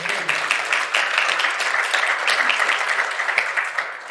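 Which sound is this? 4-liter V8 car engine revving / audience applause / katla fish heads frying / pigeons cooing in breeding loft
audience applause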